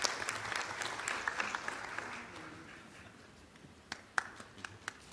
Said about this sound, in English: Please welcome them with a warm round of applause.